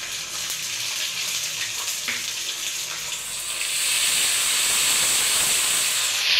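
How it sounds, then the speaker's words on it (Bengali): Ginger paste hits hot oil in a tempering of cumin, producing a steady broadband sizzle and hiss that swells louder and brighter partway through, close and continuous with no talk. "ওতে এবার আমি আদা বাটা দিয়ে দেবো।"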